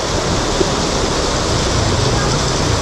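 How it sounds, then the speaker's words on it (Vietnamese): Heavy rain pours steadily in Hue during morning flooding, a dense, continuous roar of downpour at close range with no breaks, filling the whole scene at constant loudness. "trời đang mưa rất là lớn."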